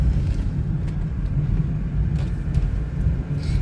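A 1998 BMW 323i is driven and shifted through its gears. The interior is filled with a steady, loud low rumble of engine and road noise, with small faint knocks and no talking.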